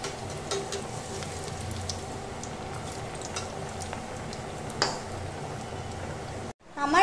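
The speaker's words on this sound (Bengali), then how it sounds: "এবার আমি এটাকে একে একে গ্যাসের ফ্লেমটাকে একদম লো রেখে ভেজে নেব" Chicken patties frying one by one in hot white oil over a very low gas flame, a soft steady bubbling crackle with a brief louder splash near the end.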